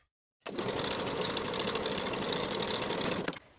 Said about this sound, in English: Sew the bottom edge of the pocket with a 3/8 inch seam allowance